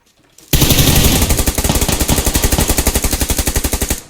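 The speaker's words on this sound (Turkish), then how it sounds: "bu diğer taraf vuruyor şimdi bizi" Automatic gunfire from the opposing team in PUBG Lite erupts after a brief quiet start into a loud, rapid, steady burst of closely spaced shots that continues for several seconds, with no talking over it.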